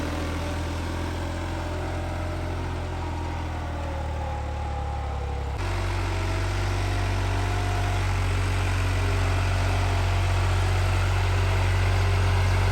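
A New Holland 3630 SE 4x4 tractor pulls a 15-tine cultivator, its diesel engine droning steadily up close with a deep low hum that shifts to a slightly heavier, louder tone partway through.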